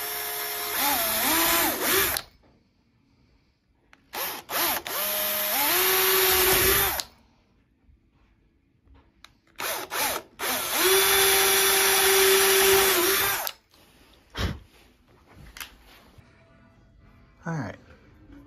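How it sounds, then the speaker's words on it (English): A power drill whirs in three long bursts while drilling pilot holes in wood, each spinning up and winding down, with quieter pauses between and a brief voice near the end. "So always pre-drill so you don't split it."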